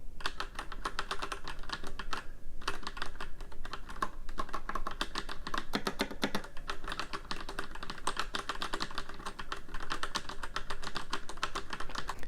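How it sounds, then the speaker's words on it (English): Rapid, continuous key presses on a Razer BlackWidow Elite mechanical keyboard with yellow switches, clacking close up at varied speed and pressure in dense, even bursts with only a brief pause. "So this is going to be a variety of key presses, both just in difference in pressure and speed."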